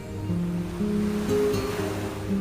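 Gentle waves lap steadily against a rowed boat, a soft continuous wash of water under a low droning musical backdrop, with no voices.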